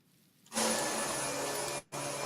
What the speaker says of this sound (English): That super loud Hoover